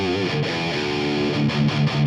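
A distorted electric guitar plays through a Plexi amp preset on a two-pedal pedalboard, a sustained crunchy chord ringing steadily with a few shifting notes near the end, no voices.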